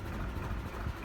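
A low, steady narrowboat engine rumble chugs continuously, close by and fairly loud, with no other sounds over it.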